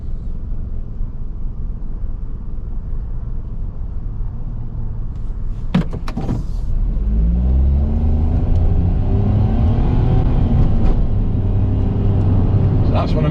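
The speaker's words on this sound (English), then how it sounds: "So that's what I mean by the revs," Kei car engine idles at the lights, then a brief knock sounds before the engine revs up while pulling away, its rising, shifting drone growing louder and holding on, with someone talking over it.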